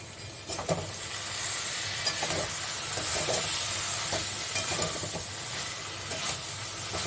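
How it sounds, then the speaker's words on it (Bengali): Drumsticks fry in oil in a pan for a spicy drumstick chorchori, a steady loud sizzle with crackling pops running throughout, close and continuous with no talking. "একটু আমি ভেজে নিলাম"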